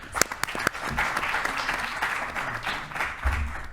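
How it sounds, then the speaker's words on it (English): Audience applause at a panel on Africa's influence on American arts and culture, a steady, moderately close patter of many hands with a few sharper claps standing out early. "A round of applause for Mr. Abdulaziz, please."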